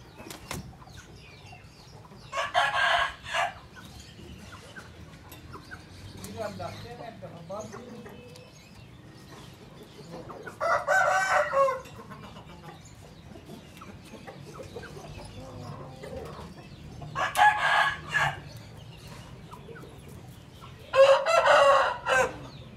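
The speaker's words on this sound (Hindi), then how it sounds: "चूजों को देखे चूजे भी नया नया।" Aseel chickens and chicks cluck and crow in four loud bursts spread across a quiet yard, with soft background chatter between them.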